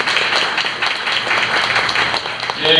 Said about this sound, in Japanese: 拍手お願いいたします